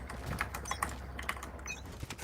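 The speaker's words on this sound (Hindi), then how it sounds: "तेरा कीबोर्ड का भी आवाज आ रहा है" Irregular clacks of computer keyboard typing, fairly close but soft, with scattered keystrokes and short pauses between bursts.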